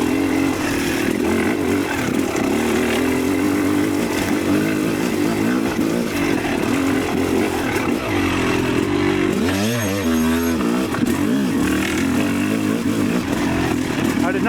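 A Yamaha YZ300 electric-start two-stroke dirt bike pulls away in third gear, its engine droning loud and close with a steady buzzing note that climbs sharply as the throttle opens midway, a rider's voice speaking over it.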